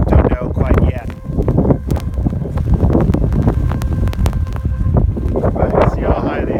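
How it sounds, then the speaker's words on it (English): Strong wind buffets the microphone during a snowstorm beside a snowbank near a radar scanning site, a steady loud roaring rush with gusty surges throughout. "A little bit windy and snowy today."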